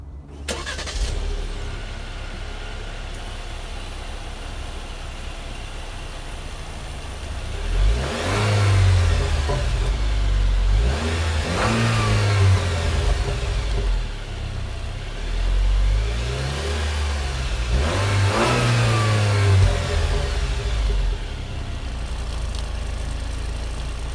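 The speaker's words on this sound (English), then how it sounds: "And the 2-liter turbo roars to life." The 2-liter turbo engine of a 2019 Jeep Cherokee Limited cranks over and settles into a steady idle, then rises in three distinct revs spaced a few seconds apart before easing back down to a smooth hum.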